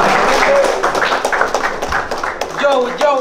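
Loud audience applause at a rap battle, Drago Czu against Tafhe, with dense hand claps and cheers mixed with crowd voices and shouts.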